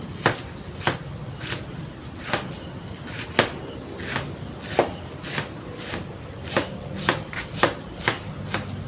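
Shallots being sliced with a knife on a board for fried rice: steady, repeated sharp taps at an even rhythm, close and moderately loud over faint room noise.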